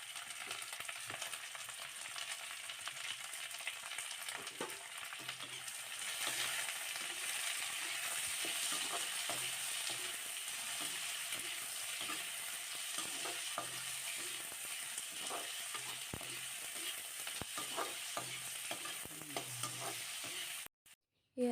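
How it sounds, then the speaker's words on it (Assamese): Tomatoes stirred and cooked down in a pan for an Assamese fish curry, a faint continuous sizzle with scattered soft clicks and scrapes of stirring, ending in a sharp knock. "এতিয়া অলপমান লৰাই বিলাহীখিনি একেবাৰে সিজালৈকে ৰাখি দিম।"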